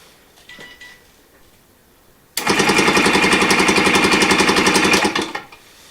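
A Yamaha AT3 motorbike engine, quiet at first, suddenly bursts into a loud, rapid-firing rattle at full throttle for about three seconds before cutting back to idle.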